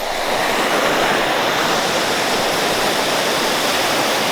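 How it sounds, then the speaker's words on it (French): Waterfall water pours in a loud, dense, unbroken rush, close and steady throughout, with no voices over it. "Une cascade là."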